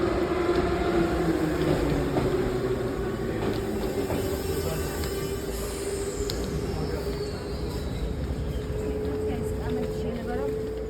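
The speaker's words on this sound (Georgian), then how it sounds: "ეხლა კიდევ მოდის მეორე მხრიდანაც მატარებელი" A metro train rumbles steadily through a station with a continuous mechanical roar and a sustained whining tone, loud and near, with a voice talking over it.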